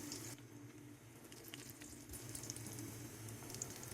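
Masala fish pieces frying in oil in a pan give a faint, steady sizzle with scattered crackles, alone and without voices throughout.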